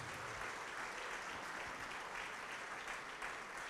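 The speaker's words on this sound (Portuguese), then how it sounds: "E vamos aplaudir mais ao nome de Jesus." A church congregation claps in a dense, continuous wash of applause, steady and moderately distant throughout, with no voices standing out.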